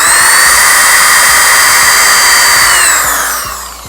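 A power drill boring screw holes into a PVC bathroom door, one loud continuous high whine that holds steady, then slows and fades as the bit winds down.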